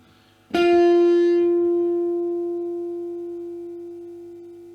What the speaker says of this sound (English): There's that little bit of like volume waving. It goes down and then comes back up again.